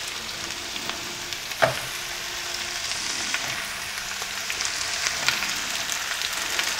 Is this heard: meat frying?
yes